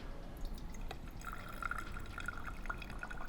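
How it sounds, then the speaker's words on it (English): Robusta coffee dripping through a brewer after its valve is opened, a quiet close patter of drops falling into a glass vessel, steady and with no talk. "Let it drip all the way through."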